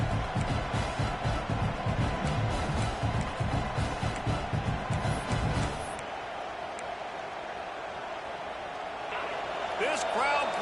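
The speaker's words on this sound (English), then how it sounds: "This crowd bringing the energy and noise early." A football stadium crowd at a Clemson versus UF game roars and cheers loudly, with rhythmic pounding for about six seconds before dropping to a sustained, more distant crowd murmur.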